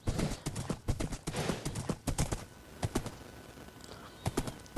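A horse's hooves clip-clop in a Bronze Age–style video game world, sharp irregular knocks in quick bursts with short gaps, close and fairly loud with nothing else over them.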